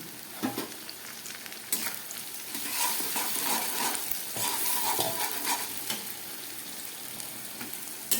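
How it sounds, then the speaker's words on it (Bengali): Onion, tomato, capsicum and whole garlic cloves fry in a pan with a steady broadband sizzle, broken by scraping stirs and clattering additions, close and moderately loud, with no voices. "পেঁয়াজ, টমেটো, ক্যাপসিকাম অনেকটা ভাজা হয়ে গেছে, একটু দিয়ে দিচ্ছি ছোট 3টে গোটা রসুন"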